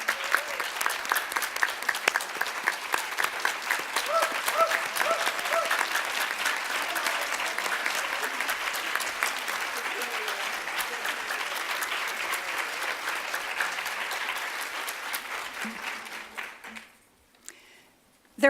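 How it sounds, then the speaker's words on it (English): An audience at a women's heroes luncheon gives a long, sustained round of applause, dense clapping from a large crowd that carries on for about fifteen seconds before tapering off into quiet. "Let's give these superheroes a wonderful round of applause."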